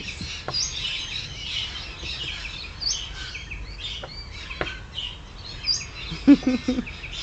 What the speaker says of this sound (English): You can hear the rejoice in the very air of how the birds sing in this moment